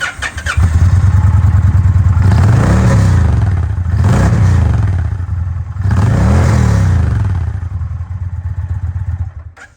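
Indian motorcycle with an SNS exhaust and Stage 2 tune, loud and close, idling with a deep rumble then revved three times in rising and falling swells before settling back.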